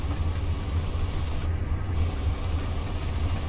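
Steady low rumble of an Amtrak Dash 8-32BWH diesel locomotive engine in Train Simulator Classic, a continuous deep drone with faint rail noise, heard alone and fairly close throughout.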